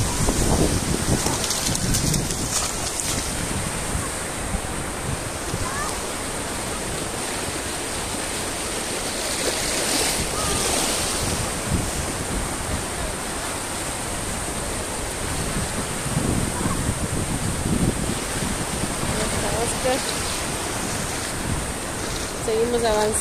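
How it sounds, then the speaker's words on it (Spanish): Ocean waves break and wash along a beach in a constant loud roaring surge, with swells rising and falling, and voices faintly heard beneath the surf. "Vienen las olas."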